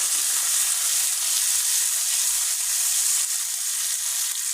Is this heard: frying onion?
yes